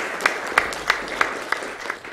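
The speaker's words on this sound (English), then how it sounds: "Everyone clap for me, please, because that's pretty hard to do." Scattered applause from a live speedrun-marathon audience during a Taz-Mania run, with a handful of sharp, evenly spaced claps over a low crowd murmur, moderately distant and fairly quiet.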